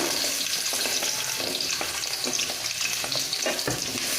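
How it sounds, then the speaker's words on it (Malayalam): Chopped shallots frying in hot coconut oil for a Kerala fish curry, a steady bright sizzle with the occasional clink of a stirring spoon, close and continuous with no talk. "വെളിച്ചെണ്ണ ചൂടാകുമ്പോഴേക്കും നമുക്ക് അതിലേക്ക് അരിഞ്ഞു വെച്ചിരിക്കുന്ന ചെറിയ ഉള്ളി ഇട്ട് കൊടുക്കാം"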